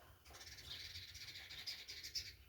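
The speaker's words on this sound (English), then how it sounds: "Those birds are loud." Several birds call loudly and continuously outdoors, a dense chorus of overlapping chirps and whistles close by with no talking.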